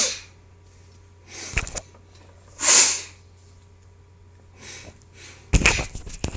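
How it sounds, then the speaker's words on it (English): A few sharp, breathy nasal bursts come close up, snorting and sniffing blows spaced apart with quiet pauses between them. "I got to blow my nose."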